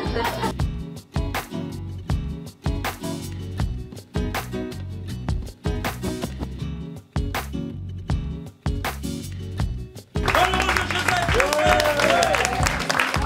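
A studio audience at a French comedy show breaks into full, dense applause during the last few seconds, after a punchy rhythmic music jingle fills most of the clip.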